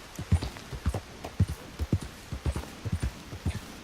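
Horse hooves walk in Red Dead Redemption 2, a steady run of close, distinct clip-clops with about two to three hoofbeats each second and no voices over them.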